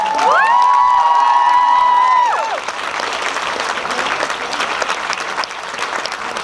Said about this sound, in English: let's give a big round of applause for all the queer characters.